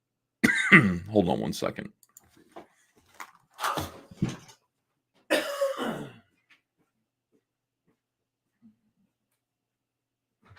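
A person speaks briefly, then coughs and clears their throat a few times nearby, followed by quiet.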